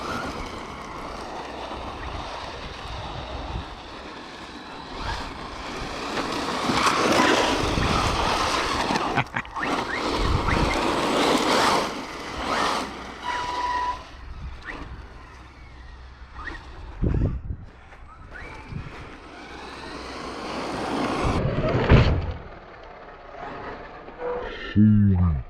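An Arrma Mojave 4s RC truck drives around outdoors with a whirring, rushing motor and gusty wind noise that rise and fall, and a voice speaks briefly.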